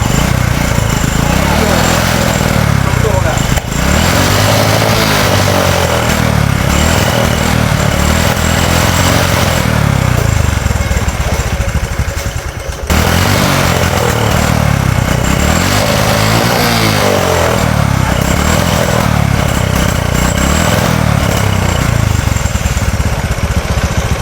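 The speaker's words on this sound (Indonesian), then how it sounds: "ini motornya sudah hidup ya teman-teman" A motorcycle engine with a dead spark plug runs loud and close after being kick-started. It holds a steady, throbbing idle with slight rises in revs, and someone talks over it.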